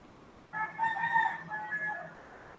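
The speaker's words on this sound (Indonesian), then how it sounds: "kok ada yang berkokok itu" A rooster crows once in a single drawn-out call of about two seconds, moderately distant and slightly muffled, over a quiet background with no talking.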